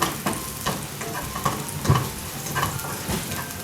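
Garlic stir-frying in oil over medium heat for Sichuan-sauce tofu, a loud steady sizzle broken by regular spatula scrapes and stirring knocks, with no voices.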